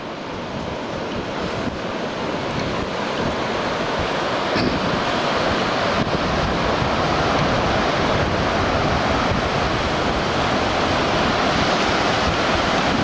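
Ocean surf breaks steadily against the shore of a Washington beach on a cloudy, overcast day, with wind buffeting the microphone in a constant loud wash that never lets up.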